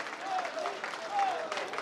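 Crowd applause for the Prime Minister at an Indian election rally, a dense wash of clapping throughout with a voice carrying over it.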